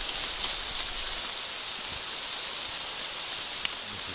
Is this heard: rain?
yes